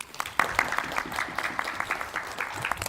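Applause for James Cowans, a past office-bearer, at a teachers' association annual congress, a modest scattered clapping from a seated audience in a hall, fairly faint and steady with a few sharper claps.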